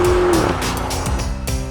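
An Audi SQ8 with a petrol V8 accelerates hard through upshifts, its loud, close engine roar briefly breaking at each gear change before pulling again, with a faint squeal of tires.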